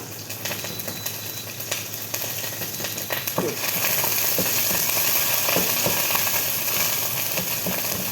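Thai southern curry paste fries in oil in a pan over low heat, a continuous crackling sizzle that grows louder partway through, with occasional stirring scrapes and no talk.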